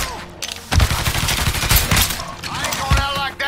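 Rapid bursts of gunfire from Mafia III crack close and loud in an irregular volley. Several heavy shots stand out above a dense, echoing firefight, and a voice briefly joins near the end.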